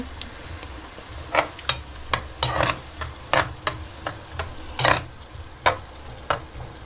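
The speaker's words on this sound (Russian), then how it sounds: "пока жарятся помидорки" Tomatoes frying in a pan for a green bean dish, with a low steady sizzle and a string of sharp utensil scrapes and taps from stirring, close by and without talk.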